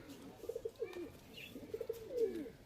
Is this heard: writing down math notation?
no